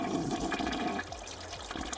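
A toilet flush sound effect plays as a stream alert for a bits donation, a steady rushing gurgle of water filling most of two seconds, loud and close.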